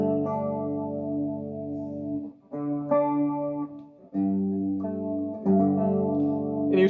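Electric guitar in drop D tuning played through a heavy distorted metal tone, ringing sustained chords that change every second or two, loud and close with no voice over it.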